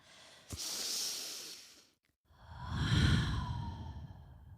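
Deep breathing during a prenatal yoga session: one long airy inhale, a short pause, then a fuller, louder exhale, close to the microphone with no talking.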